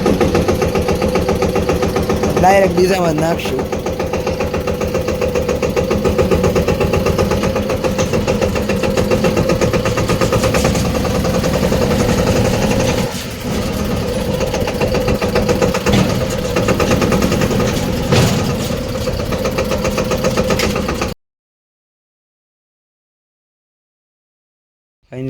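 Tractor engine runs steadily up close for about twenty seconds with a rough, even throb and some clatter, a voice briefly speaking over it before it cuts to silence.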